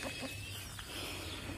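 Chickens feeding on bakery bread give soft, faint clucks and low murmurs in quick short bursts, close by, with no talk.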